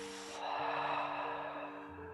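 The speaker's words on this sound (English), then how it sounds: "And exhale through the mouth." During a gentle yoga breathing flow, someone exhales through the mouth in one long, soft, breathy rush lasting about two seconds. It is heard over a steady background of soft music.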